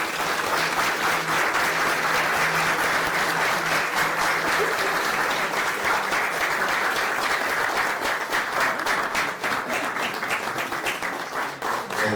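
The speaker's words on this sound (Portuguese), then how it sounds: "pedir um gesto de confirmação com uma salva de palmas." A congregation in a chapel gives a sustained, dense round of applause that holds steady for several seconds before thinning slightly near the end.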